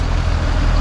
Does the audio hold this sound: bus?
yes